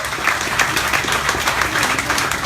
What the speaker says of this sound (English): Everybody give Todd or Martin a round of applause for helping us out with this